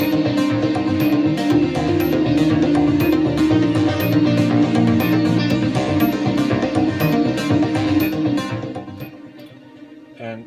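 Sustained synth pad layered with a Roland System 100M modular synthesizer track, dense harmonic chords with faint repeating high bell-like notes, holding steady and loud before fading down toward the end.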